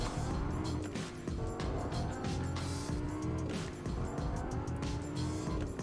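A car in Fortnite drives with a steady engine drone, gear-like pitch sweeps and repeated tire squeals and skids, loud and continuous throughout.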